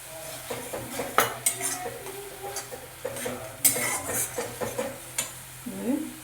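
Spice masala for fish head curry being stirred in a pan, a metal spoon clinking and scraping repeatedly against the pan in irregular strokes over a faint low sizzle.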